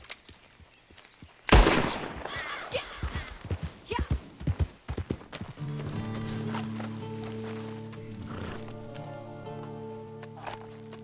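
Horse hooves clip-clop in a run of quick, distinct steps in the Red Dead Redemption Online video game, after a sharp gunshot and before sustained musical tones rise.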